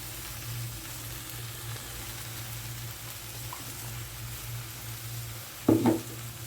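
Ground garlic and dried red chillies sautéing in a pan, a soft, continuous low sizzle with a steady hum beneath, ending in a brief louder clatter of a utensil.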